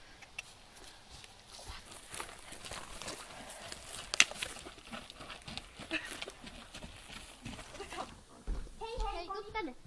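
A new horse being led and ridden in Finland, its hooves clip-clopping in an irregular walking rhythm with occasional sharper knocks, mixed with rustling and movement noise; people talk briefly toward the end.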